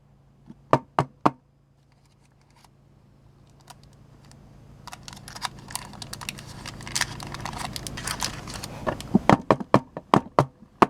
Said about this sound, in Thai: จากนั้นเราก็จะเคาะเคาะนะ